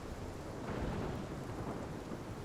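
Thunderstorm in the video game Life Is Strange, a steady roar of heavy rain with a low rumble of thunder swelling near the middle, broad and continuous throughout the clip with no voices.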